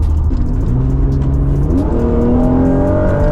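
A 1991 Acura NSX engine revs up loud and close, its rising harmonic whine climbing in pitch as it sweeps into VTEC with a sharp step upward midway, sustained throughout without talk.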